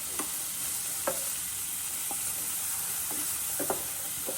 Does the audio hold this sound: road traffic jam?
no